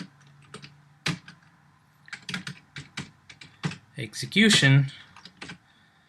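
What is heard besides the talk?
typing code on a computer keyboard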